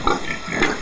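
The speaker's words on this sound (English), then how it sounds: "Now I want to show you the pigs." Pigs on a farm give two short, nasal grunts close by, one after the other, in a brief burst.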